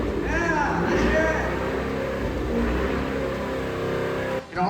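A car engine revs hard and holds a high, roaring pitch, loud and close, then drops off abruptly near the end.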